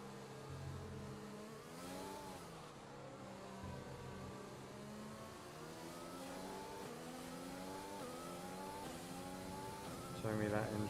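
Race car engine in F1 2020 at the Chinese circuit, with a failing, worn power unit suspected in the MGU-H, droning and rising through the revs with gear-change dips, fairly quiet while someone talks over it.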